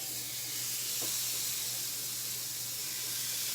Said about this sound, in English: I'm gonna add the chicken right to the grill. We'll probably hear it sizzle